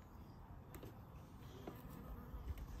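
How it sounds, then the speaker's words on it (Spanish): A bee buzzes faintly near the microphone outdoors, a thin intermittent drone over low background noise, with no clear talk. "¡Uy, una abeja!"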